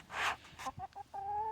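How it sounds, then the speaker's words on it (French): A young rooster in a chicken coop gives several short clucks and chirpy calls, close by and fairly loud, the last one drawn out into a steady tonal note. "c'est Jerry, mon futur coq"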